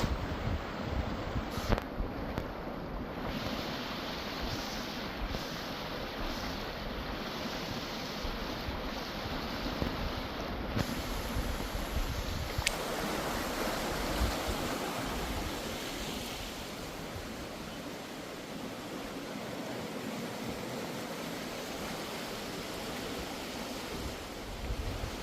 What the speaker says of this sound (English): Quite a bit of water flowing, which has definitely surprised me.